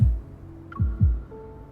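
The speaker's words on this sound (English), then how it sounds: "then I hear my own heartbeat in silence" Heartbeat sound effect in the Love & Deepspace video game: soft, deep thumps, first a single beat and then a close double beat, with a faint chime tone in between.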